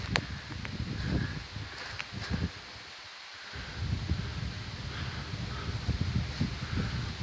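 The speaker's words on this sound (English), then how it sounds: "Well, the wind's kicking up" Strong mountain wind gusting through trees, a rushing, rustling roar rising and falling in uneven waves with a brief lull midway, close to the microphone.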